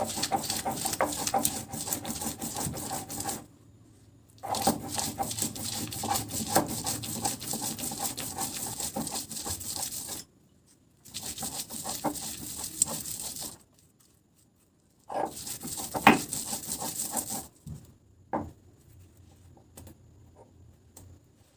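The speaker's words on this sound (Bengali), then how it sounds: "আমরা চার পাঁচটা চিংড়ি মাছও বেটে নেব চিংড়ি মাছগুলো হালকা করে একটু বাটলেই হবে" Shrimp and bottle gourd peel are ground on a grinding stone, with repeated scraping and patting strokes in several bursts separated by short pauses. It sounds close up, with no talking.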